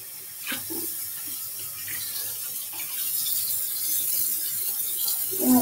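Water runs steadily from a tap while hair is wetted, a continuous close splashing wash that grows slightly louder toward the end, with no talk.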